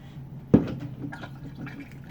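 Water recirculating out of a Brewer's Edge mash tun during an all-grain kettle sour mash, a brief splash followed by soft dribbling and trickling close by.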